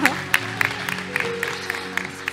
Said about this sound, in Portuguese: Palmas para ele também.